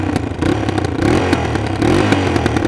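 Kick-start Yamaha XT350 single-cylinder motorcycle with a holed exhaust, running close and loud with a rapid uneven chug broken by sharp popping and crackling bursts throughout.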